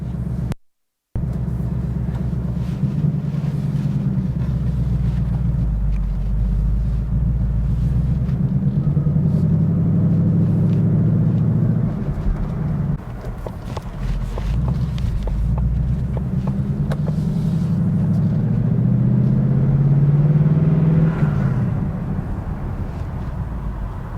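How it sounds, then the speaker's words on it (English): A 2022 Ford Mustang GT Premium with its 5-liter V8 drives from inside the cabin, a deep, steady engine rumble with low road roar that swells and eases with throttle across the drive, with no talking. "Setting off here in the Mustang, again, 2022 Mustang GT Premium."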